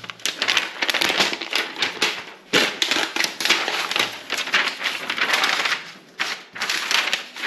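Unboxing of a new MacBook Air M2 box, with bursts of crinkling, crushing and scraping of packaging close to the mic in irregular spurts, interrupted by a few brief pauses.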